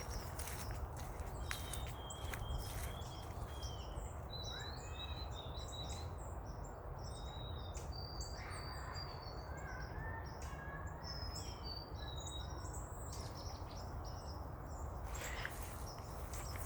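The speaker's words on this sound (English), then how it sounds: "You can hear the early birds." Many birds chirp and trill continuously in the open air around 8 a.m., overlapping calls near and far over a steady low rumble, with no talking.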